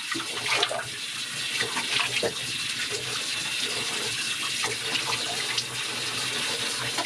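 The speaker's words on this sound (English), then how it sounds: "it's awfully hard to get really cold water from your bathroom sink" Cold water running from a bathroom sink tap in a Southern California home, a steady close splashing rush into the basin with a few brief knocks and shifts in the flow.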